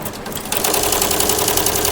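A sewing machine stitches a net design, starting up after a brief pause into a fast, continuous close-up rattle of rapid needle strokes.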